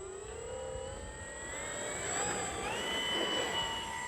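A Dynam Focke Wulf Fw 190 radio-controlled model warbird flying at half throttle, its electric motor whining steadily and rising slightly in pitch, heard from a moderate distance over faint outdoor background.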